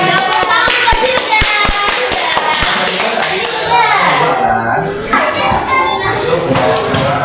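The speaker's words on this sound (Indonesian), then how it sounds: "Tepuk tangan dulu." Children clap in an elementary school classroom, a burst of loud, rapid claps near the start that fades under continuous chatter and a teacher's voice.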